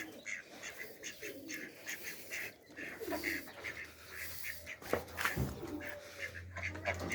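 Geese and ducks in a farmyard aviary honk and quack faintly from a distance amid steady background noise, with scattered bird calls throughout and no clear talking.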